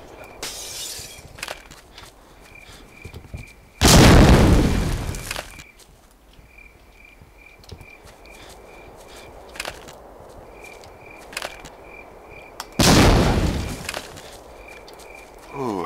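A grenade thrown through a window bursts in the Ghost Recon: War of Infamy Axis mission, with loud breaking-glass crashes and a blast that decay over a couple of seconds, heard twice, between faint footsteps and quiet periodic electronic beeps.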